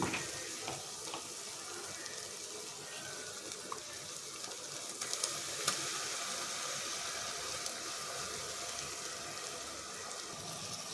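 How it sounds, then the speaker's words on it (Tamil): Ground masala paste sautés in oil on a low flame with curry leaves for a village-style country chicken kuzhambu, producing a soft, even sizzle with light crackles and occasional stirring, steady and close with no talk. "இதை நல்லா பச்சை ஸ்மெல் போகிற வரைக்கும் லோ ஃப்ளேம்லேயே வச்சு நல்லா வதக்கி விட்டுருவேன்"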